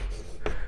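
Marker or chalk writing on a classroom board during a chemistry lesson, heard as two short, close scratchy strokes over a low steady room hum.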